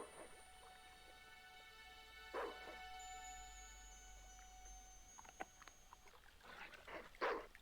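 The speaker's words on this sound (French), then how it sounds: "C'est un bon toutou, ça." A few short dog barks and yips in the video game Broken Sword 2, fairly faint, in separate bursts against a steady electronic hum with tonal game sounds.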